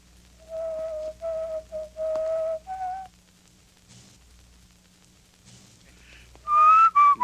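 A person whistles a short tune of a few clear phrases, then pauses, then whistles again with a louder, higher rising call, set against a quiet background.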